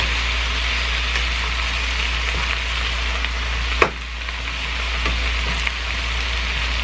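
Bok choy and shrimp with sesame oil sizzle steadily in a pan at home while being stirred, giving a constant close frying hiss with a sharp utensil knock near the middle and a few lighter scrapes.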